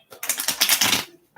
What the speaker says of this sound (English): let me just shuffle really quickly